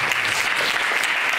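A short burst of dense audience applause, steady and fairly loud throughout.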